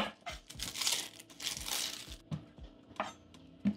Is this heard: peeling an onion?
yes